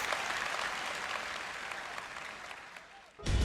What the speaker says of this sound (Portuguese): Dê uma grande salva de palmas ao Senhor em louvor.